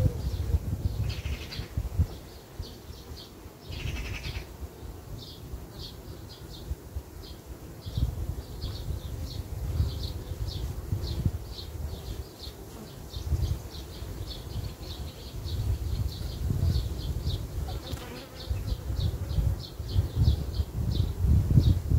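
Honeybees hum around an open hive of an artificial swarm, a soft, continuous droning buzz with low rustling and handling noises underneath, fairly quiet and close, with no speech.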